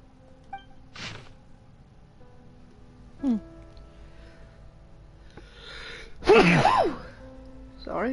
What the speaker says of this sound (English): I just sneezed.